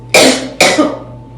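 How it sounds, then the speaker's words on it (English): Two sharp, loud coughs in quick succession, close up, followed by a fading breathy tail. "I have to cough really bad"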